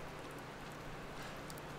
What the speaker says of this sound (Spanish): qué lástima que esté lloviendo